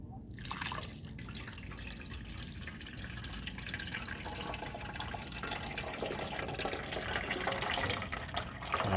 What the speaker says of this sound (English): I'm going to take that cone, I'm going to pour it into that cylinder